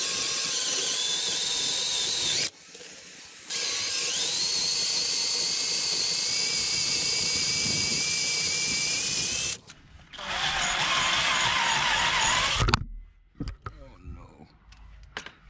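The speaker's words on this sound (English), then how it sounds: "Going up market this time, we've got the old drill brush on." A drill-mounted wire brush scours the wheel hub of a BMW E30, a loud, close, high whining grind that runs in long stretches with brief pauses, then gives way to scattered clatter and handling noise.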